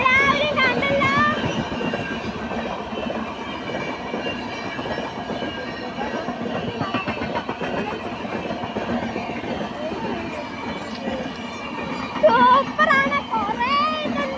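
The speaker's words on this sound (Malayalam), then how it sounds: "ഇതാണ് നമ്മുടെ ട്രെയിൻ." A passenger train rolls past with a continuous rumble, rhythmic clickety-clack of wheels and occasional wheel squeal, fairly loud throughout, with voices heard at times over the noise.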